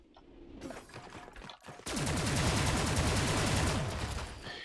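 Rapid automatic gunfire in the video game Cloudbuilt with zero recoil, a dense loud burst of evenly spaced shots that runs continuously for several seconds after a few lighter clicks.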